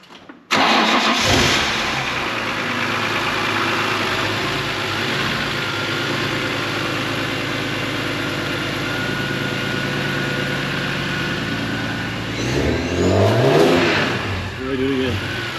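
A BMW E46 M3 fitted with a CSL airbox cranks and catches with a sudden loud start, idles steadily for a long stretch, then gets a couple of sharp revs with intake noise near the end, with people talking briefly.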